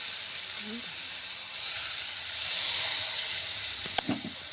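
Steady sizzling and hissing of water poured into frying spice paste with garlic and ginger, a broad close hiss that swells midway, with a couple of sharp spits near the end.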